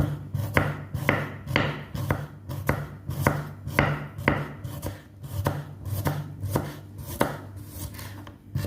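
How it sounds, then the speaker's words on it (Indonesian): A knife chops shallots rapidly and rhythmically on a cutting board, steady sharp taps close up, continuing without pause. "sekarang kita potong dulu bawang merahnya kecil-kecil"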